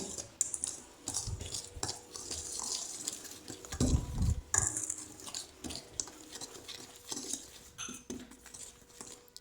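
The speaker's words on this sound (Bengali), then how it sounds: "এবার এই শুকনো মিশ্রণটাকে ভালো করে একটু মিশিয়ে নিচ্ছি।" Sifted dry ingredients for an eggless Christmas fruit cake mixed in a bowl, soft scraping and patter with light clinks of a utensil against the bowl, quiet and close, one louder knock midway.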